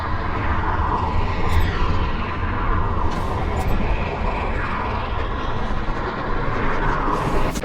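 Jet aircraft afterburner in the video game Delta Force: a steady, loud roaring engine drone with whooshing swells, continuous across the whole stretch with no pauses.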